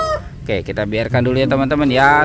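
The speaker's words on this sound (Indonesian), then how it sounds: "Ada ayam berkokok." A rooster crows and clucks loudly in a long, wavering call, with a person talking over it.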